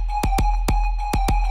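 Looped section of an unmastered electronic music track, with a punchy kick drum thumping in a steady pattern over a sustained synth tone, played alone with no voices.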